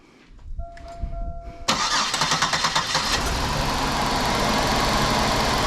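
A 2005 Buick Park Avenue with a random misfire fault cranks briefly with a starter whir, then catches and settles into a loud, steady close idle with quick pulsing at first.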